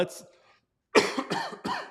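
A brief voice at the start, then a burst of three or four harsh, close coughs in quick succession.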